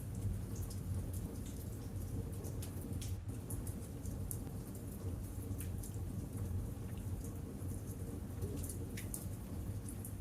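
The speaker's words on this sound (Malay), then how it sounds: "mendengar bunyi hujan yang turun dengan halus di luar sana" Gentle rain falls outside in a steady, even patter with scattered drips and a low rumbling undertone, continuous and soft throughout with no voices.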